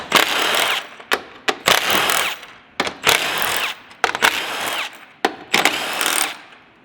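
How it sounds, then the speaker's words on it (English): Stubby impact wrench with a 10mm socket removing nuts from a 2022 Ford F-350 Platinum, several loud close bursts of whirring and hammering separated by short pauses. "grab the stubby impact"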